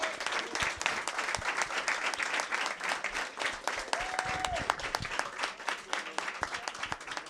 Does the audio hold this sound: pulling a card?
no